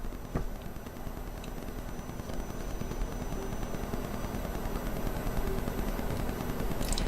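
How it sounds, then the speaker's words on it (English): An electric nail drill with a buffing bit runs against gel nails, giving a steady, even whir with a constant low hum that continues without pause. "Turn your hand and move the drill bit from right to left."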